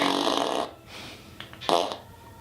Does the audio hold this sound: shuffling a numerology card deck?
no